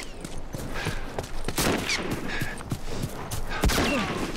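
Enemy gunfire in The Last of Us, a scatter of sharp shots and thuds over a busy, noisy combat backdrop, several distinct cracks spread across the stretch at moderate loudness.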